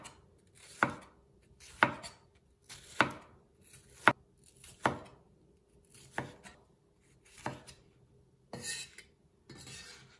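A knife chops tomatoes into roll-cut chunks on a board, about a dozen crisp separate thuds in an uneven rhythm, close and clear with no talk.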